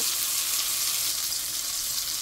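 A beef steak sears in a hot pan, giving a loud, steady, bright hiss and sizzle that holds unbroken throughout, close up, with no talking.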